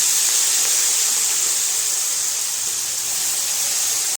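Fenugreek leaves and green peas sizzle steadily in a hot pan, a loud continuous bright hiss with no break.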